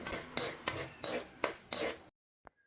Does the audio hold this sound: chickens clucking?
no